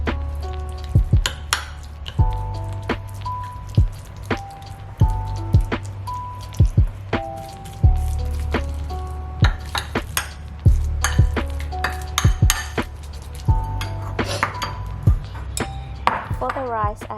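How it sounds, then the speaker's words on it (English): Canned tuna is mashed into a paste and mixed with mayo in a bowl, giving a steady run of wet squishing taps and light clinks from the utensil against the dish, close and fairly loud. "We're going to smash it into smaller pieces, almost like a paste. Then we will add 1 tablespoon of mayo and mix it together."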